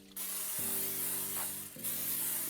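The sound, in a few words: cooking spray on a bundt pan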